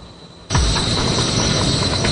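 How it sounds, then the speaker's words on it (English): A maglev magnetic levitating train starts up with a sudden loud onset after a quiet moment, then a sustained broad rushing roar with a steady high whine. "now the train, the whole train, is floating in midair 10 millimeters above the track"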